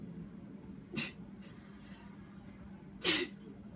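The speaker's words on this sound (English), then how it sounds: "That was my daughter sneezing." A young girl sneezes twice indoors during a card-making tutorial, two short sharp bursts about two seconds apart over quiet room tone.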